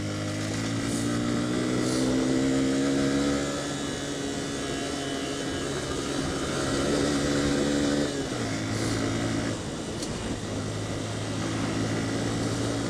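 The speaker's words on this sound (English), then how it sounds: "So it's only a little 150cc thing, this thing, so you've got to give it a bit of" A small Yamaha FZS 150cc single-cylinder motorcycle ridden along a rough road near Pokhara, Nepal, its engine droning steadily and loudly with rising and falling revs and a gear change partway through, no talk over it.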